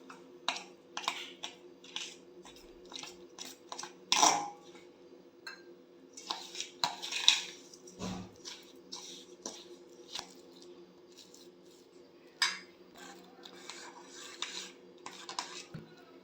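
Spoon mixing milk into fenugreek powder in a bowl, soft scattered clinks and scrapes against the bowl, irregular and fairly faint, over a low background hum.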